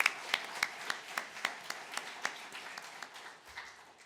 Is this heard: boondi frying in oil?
no